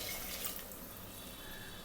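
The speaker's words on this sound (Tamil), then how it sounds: "இப்போ இதில் 1 கப் தேங்காய் பால் சேர்த்துக்கலாம்." Coconut milk pours from a cup into a cooking pan while rice with spice powder and yogurt is being prepared, a faint, steady liquid splash heard alone.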